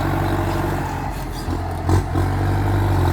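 A farm tractor engine runs steadily nearby, a dense low droning rumble with a clattering edge and slight shifts in load, continuous throughout.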